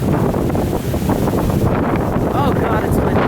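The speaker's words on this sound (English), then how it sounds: "Oh God, it's windy." Strong outdoor wind buffets the microphone in a steady, loud roar near the water in Salem, Massachusetts, with bursts of gusting and a faint voice underneath.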